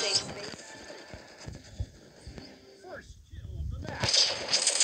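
Shotgun fire in a mobile hero-shooter video game, muffled bursts and clatter of game action mixed under a voice talking over the gameplay.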